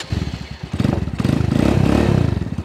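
A Dongfang Ghost 250 cruiser motorcycle engine cranks, catches and settles into a loud, close, pulsing idle with a rapid steady thump and some mechanical clatter, no talking.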